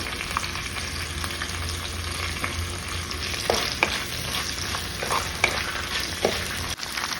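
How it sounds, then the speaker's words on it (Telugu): Onions softening in a covered pan give a steady, even frying hiss with faint clinks and light stirring taps scattered over it, close by and with no talking. "మూత పెట్టి ఉల్లిపాయ మగ్గనిద్దాం ఇట్లా"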